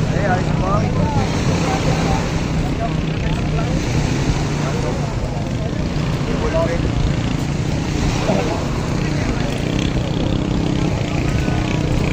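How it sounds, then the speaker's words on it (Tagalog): A steady, loud boat engine drone runs throughout, rough and continuous, with faint voices over it, at a bancarera boat race in Barangay Pisa, Tingloy, Batangas; the engine seems to have a problem. "Medyo may problema yata ang makina ng fighter, ano?"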